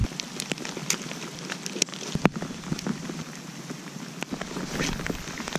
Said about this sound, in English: This is a torrential downpour right now.